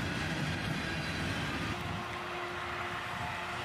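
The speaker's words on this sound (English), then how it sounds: "we'd catch this northbound with CSX 454, the Spirit of Magnolia, leading" CSX locomotive 454, the Spirit of Magnolia, leads a northbound freight train past, a fairly quiet steady rumble of rolling cars with a faint sustained tone appearing midway; no voices.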